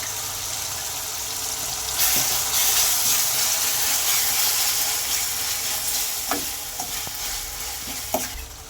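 Tomatoes for a prawn and okra curry sizzle steadily in a hot pan, with a few scraping stirs of a spoon cutting through the constant frying hiss, close and moderately loud, no voices.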